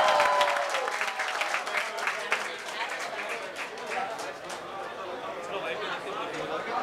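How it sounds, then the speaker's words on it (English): An audience applauds at a film song promotion event, with a burst of clapping at the start that settles into steady, lighter clapping mixed with crowd chatter. "Please give them a huge round of applause."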